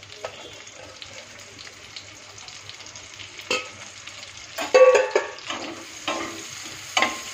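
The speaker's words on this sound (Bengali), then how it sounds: "এবং এর মধ্যেই আমি পেঁয়াজ ভেজে নেব।" Chopped onion fries in ghee in a pan, a soft steady sizzle broken by a few louder scraping stirs close by.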